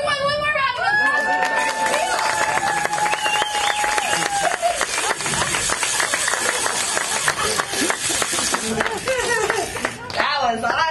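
Lively audience applause and cheering for a singer who has just performed with a guitar, clapping mixed with whoops, shouts and crowd chatter, loud and sustained throughout.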